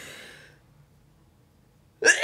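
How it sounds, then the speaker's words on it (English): A single loud sneeze bursts out near the end after a brief faint voice and a stretch of near silence, sharp and close. "I have to sneeze."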